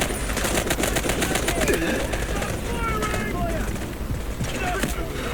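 Rapid automatic gunfire from a gun in the mobile shooter Delta Force Mobile, with dense repeated shots over game ambience while someone talks throughout.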